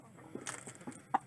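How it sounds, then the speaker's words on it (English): Hens clucking in a chicken pen as they squabble over their nests, a few short close clucks and squawks with a sharper pair of calls near the end. "these crazy hens fighting over their nests."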